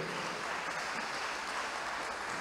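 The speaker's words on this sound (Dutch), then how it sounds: "Dus wij vragen extra applaus voor de hele regering" Steady, dense applause from an audience at a Dutch parenting-support day, continuous and fairly even throughout with no clear voices on top.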